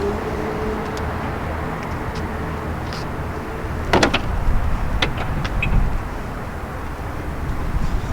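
Power tailgate of a 2019 Audi RS5 Sportback closing at the push of a button: a steady motor hum, then a sharp latching clunk with a few light clicks, heard alone and fairly close.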